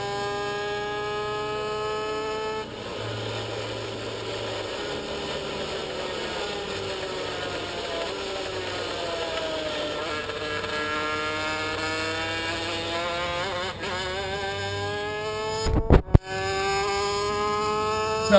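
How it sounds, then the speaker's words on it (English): A racing kart fitted with an A-kit cylinder drones steadily past, a continuous buzzing engine note with rising and falling harmonics as it circles the track, loud and sustained with a brief sharp clatter near the end. "It's got a different sound to it, that A-kit cylinder does."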